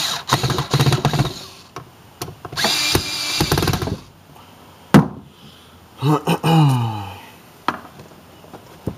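A repaired gas weed wacker, freshly fuelled and primed, is started: several short, loud mechanical bursts and sputters, followed by the engine catching and revving up and down in rising whines, close by.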